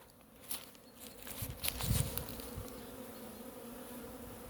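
Honeybees on a winter orientation flight buzzing out of a sunlit hive, a close, faint hum with individual bees droning past and swelling briefly before fading.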